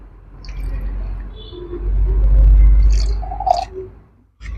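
Humic acid being stirred into reverse osmosis water gives a few soft liquid sloshes and drips over a low rumble, close by and fairly quiet, with no talking.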